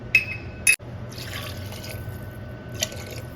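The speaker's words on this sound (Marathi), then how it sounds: "ह्याच्यामध्ये पाणी टाकायचं आहे आणि आता हे चिंच जे हे झालेलं आहे ते पण टाकते" Water and soaked tamarind going into a pot of sambar in a home kitchen, heard as a couple of sharp drips and splashes, then a low steady liquid trickle with a faint hum underneath.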